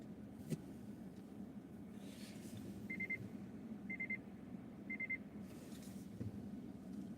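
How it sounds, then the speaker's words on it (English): A car's parking sensor gives three short, evenly spaced beeps while the car backs out, each tone clear above a steady low hum of engine and road. "the car was beeping at me because it knew somebody was coming"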